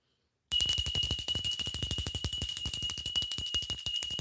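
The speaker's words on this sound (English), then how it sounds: "I'm ringing the bell." A bright, sustained ringing bell tone with a steady rapid pulsing, sounding continuously and fairly loud after a short silence, with no talk over it.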